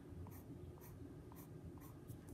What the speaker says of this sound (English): when I do the strokes, I start at the edge of the animal that I've drawn, and I put my pencil down, and then I pull it up